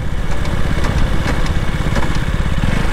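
A 2023 BS6 KTM RC 200 motorcycle engine runs loud and close while riding, a steady buzzing drone with rhythmic pulsing throughout and no talk.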